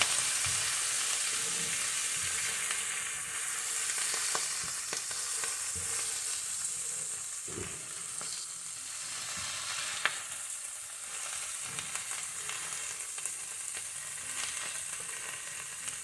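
Collard greens fry in a pan under a cooking lid, giving a continuous crackling sizzle that holds at an even level throughout, with occasional soft knocks and pops rising briefly above it.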